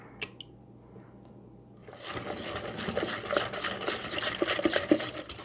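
A butter tart filling of maple and corn syrup is stirred together with eggs in a bowl, a quiet, steady wet stirring and soft squishing that begins after a near-silent pause, close and unaccompanied by speech.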